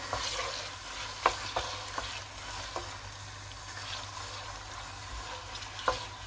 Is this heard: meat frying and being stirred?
yes